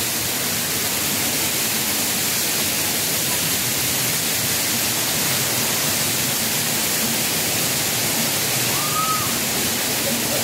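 Waterfall at Bato Spring, a loud, steady broadband rush of falling water that fills the scene without a break, with no voices standing out above it.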